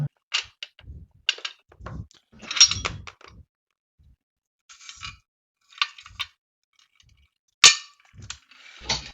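Loose metal nuts and bolts salvaged from combat robots clank and rattle in scattered, irregular bursts, with sharp metallic clicks and clinks separated by short silences, close and fairly loud.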